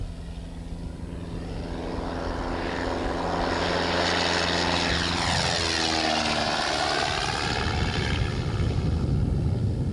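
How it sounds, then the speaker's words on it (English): Cessna 172 propeller airplane in flight, its engine droning steadily and loudly from close inside, with a swelling, shifting tone partway through and no voices. "on his third solo flight in a Cessna 172"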